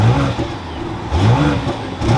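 The engine of a 2023 BMW X7 xDrive40i starts up and revs, a loud close mid-pitched surge that settles briefly and rises again in a second swell.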